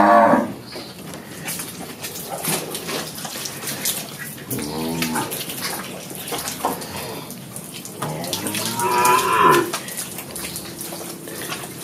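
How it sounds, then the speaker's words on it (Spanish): A cow moos repeatedly at close range while being hobbled for milking on a farm, the low drawn-out calls rising in two main bursts over steady splashing water and handling noise. "aquí estamos maneando la vaca"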